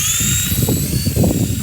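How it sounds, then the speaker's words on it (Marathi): A toy helicopter starts up outdoors, its small rotor and motor giving a close, steady high-pitched whine over a low fluttering hum, with no talk. "हेलिकॉप्टर चालू करून देऊ."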